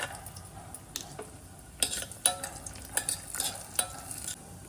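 Raisins frying in a pan for kharjoora payasa, a soft steady sizzle broken by several sharp spoon scrapes and clinks against the pan, close and without voices.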